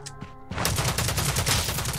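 After a short quiet lead-in, dense rapid gunfire erupts in Rules of Survival, landing a headshot; the shooting is loud, close and continuous to the end.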